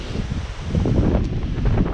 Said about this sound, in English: This wind is icy.